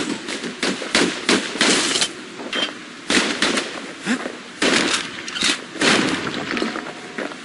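Rapid bursts of dual pistol fire in the Bastion action game, loud sharp cracks coming in quick volleys separated by short gaps, with no one talking.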